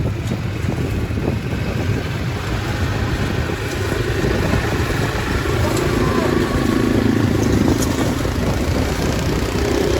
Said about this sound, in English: It takes a lot of work off you when the bike can pull it into your soil